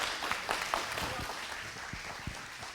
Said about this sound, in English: let's give him a round of applause, people